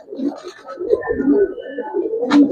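Two Jabra pigeons at a Bengali pigeon seller's stall give low, murmuring coos that repeat through the moment, fairly close, with a sharper call near the end and no clear talk over them.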